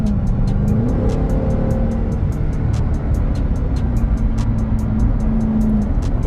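A Dodge Durango Hellcat SUV's engine drones steadily and loudly from inside the cabin on a night drive, its pitch climbing and wavering as the vehicle accelerates, with a faint rhythmic ticking throughout.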